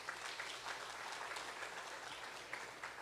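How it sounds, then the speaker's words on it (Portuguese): Church congregation applauding during a sermon: steady, faint-sounding clapping from a crowd, continuous and even for a few seconds, heard at a distance with a low hum underneath. "Aplaude Ele em nome de Jesus."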